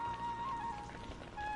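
Heavy rain pouring down on a village, a dense steady hiss of drops with no pauses, fairly quiet and heard alone with no voices.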